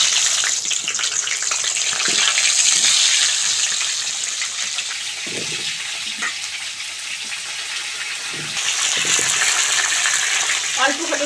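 Washed potatoes drop into hot mustard oil seasoned with a little salt, setting off a loud, continuous frying sizzle with bursts and small clatters as the pieces land.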